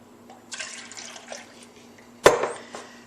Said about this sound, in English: 3 cups of milk. And away we go with that.